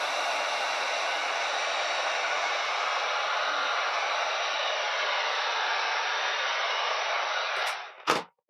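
A heat gun blows hot air onto a vinyl graphics wrap on a Pro Boat Sonicwake boat hull. The hiss is steady and close, holding unbroken for about eight seconds before it cuts off with a brief knock.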